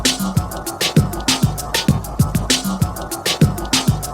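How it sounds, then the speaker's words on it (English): New Orleans sample loop playing back in Pro Tools, a busy percussive groove with crisp hits and low thumps repeating in a steady, swung rhythm, loud and close without any talking. "It's like a New Orleans sample"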